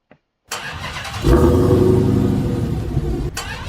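A Dodge car engine in BeamNG Drive cranks and catches after a brief silence, then settles into a loud, steady idle rumble that holds to the end, with a short dip near the close.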